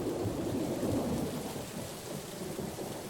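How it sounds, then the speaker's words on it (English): A Famicom Detective Club cutscene plays a stormy night of steady rain hissing over a deep, rolling rumble of thunder that swells and fades, with no voices. "It's a dark and stormy night."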